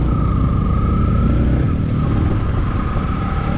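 A Bajaj Dominar D250 motorcycle pulls away on a road trip setting out toward Bangalore, its engine a steady, loud mid-pitched drone with a low rumble that holds without a break.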